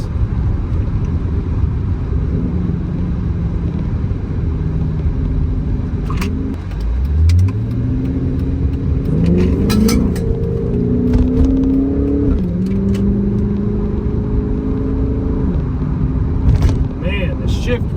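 Dodge Charger engine, fitted with a 2006-10 paddle shifter, revving as it climbs through gears, with rising tones stepping up and dropping at each quick shift, close and steady under occasional talk.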